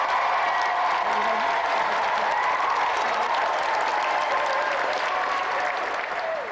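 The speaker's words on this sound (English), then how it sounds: "So let's have another round of applause for Emily and Michael Glebe." Continuous applause from a 1992 television game-show studio audience fills the stretch, a steady, even wash of many hands clapping for the contestants.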